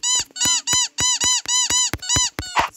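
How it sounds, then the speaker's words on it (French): Rubber duck squeaks in the Roblox game Mansion Tycoon 2, about ten bright, rapid squeaks in a quick rhythm, loud and close with no talk. "C'est le bruit d'un canard en plastique."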